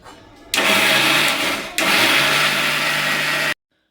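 Mixer grinder grinding soaked rice into a paste with a little water, a loud steady whirring drone that starts abruptly, dips briefly for a moment, then resumes and cuts off sharply.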